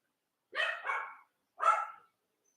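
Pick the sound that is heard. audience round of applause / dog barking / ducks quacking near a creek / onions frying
dog barking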